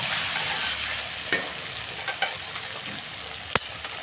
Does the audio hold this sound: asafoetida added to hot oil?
yes